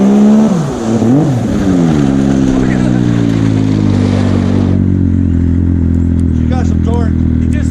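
A Yamaha Sidewinder snowmobile with a 270HP reflash on pump fuel revs hard up close, pitch sweeping up and down through several sharp blips before settling into a loud, steady high idle, with voices talking over it.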